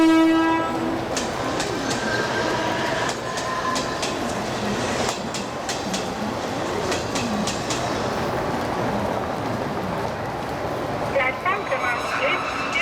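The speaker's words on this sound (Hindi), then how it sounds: "एक जलद गाड़ी जाने वाली है।" Fast train rushing through Borivali railway station in Mumbai: a loud, sustained rumble of wheels and rail clatter, with a horn blast near the start and station voices underneath.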